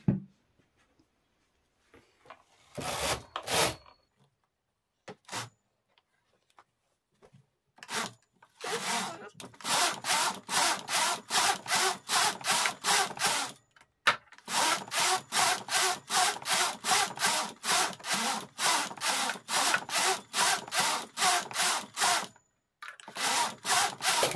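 Sock stitches knitted on a domestic knitting machine, the carriage sliding across in a long run of fast, regular rasping passes, close and loud, after a few scattered strokes and a brief pause.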